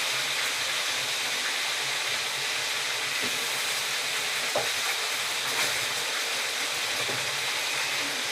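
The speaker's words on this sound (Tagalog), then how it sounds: "I-prito lang natin ng konti." Chicken feet fry in a pan with a steady, dense sizzle and crackle, close and continuous, punctuated by a few sharper pops.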